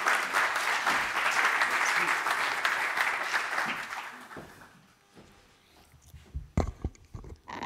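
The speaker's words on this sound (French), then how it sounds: "merci beaucoup pour vos applaudissements" An audience at a French senator's address on digital policy applauds steadily. The dense clapping fades out after about four seconds, followed by a few scattered claps and faint handling noises.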